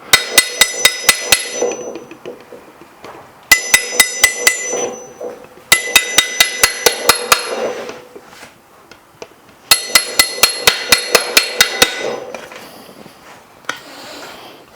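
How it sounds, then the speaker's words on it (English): Hammer blows shaping car body sheet metal by hand ring out in four rapid bursts of sharp, evenly spaced metallic strikes, loud and close, with short pauses between runs and no talking. "Your eyes are guiding the hammer, but your right hand's telling you where the hammer needs to hit."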